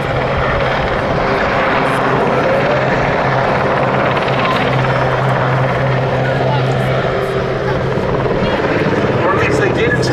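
An RAF Sikorsky Sea King helicopter flies at the Duxford air display, its steady, loud rotor and turbine roar holding throughout while a commentator talks over it.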